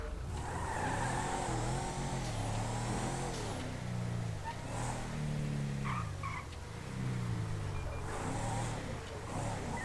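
A car drives through the streets of the video game GTA, its engine revving up and down in repeated rising and falling whines with occasional tire squeals, steady and fairly loud, no talk.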